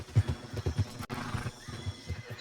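Horse in Red Dead Redemption 2 gameplay whinnies with repeated clip-clop hoofbeats, a close, loud rhythmic series of thuds and a brief neigh, with no talk over it.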